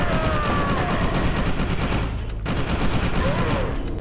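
Dense, continuous automatic gunfire in the first-person shooter F.E.A.R. 2, loud and close throughout with barely a break, rattling shots layered over heavy low-end rumble.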